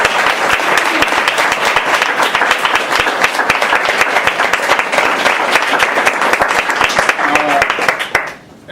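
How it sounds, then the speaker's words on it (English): Audience at a panel event applauding the panelists, dense sustained clapping filling the room at steady loudness before cutting off near the end. "So if we could all just give them a round of applause."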